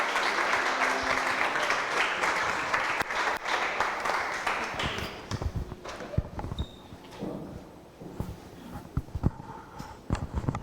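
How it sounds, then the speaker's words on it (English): An audience at a coding bootcamp demo day gives a big round of applause, dense and loud at first, then thinning into scattered individual claps that trail off over several seconds. "let's give them a huge round of applause"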